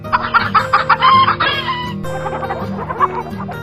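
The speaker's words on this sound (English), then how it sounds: "chicken." A chicken clucking loudly and close, a rapid run of clucks followed by a drawn-out call, then softer scattered clucking.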